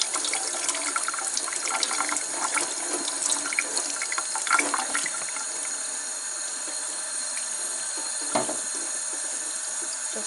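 Tap water runs steadily into a sink while hands and fingers are scrubbed under it, a continuous splashing wash with brief changes in the flow, no voices.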